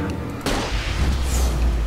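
A single loud gunshot boom from the video game Alan Wake cracks out suddenly and leaves a rumbling low tail under continuing game ambience, with no talk over it.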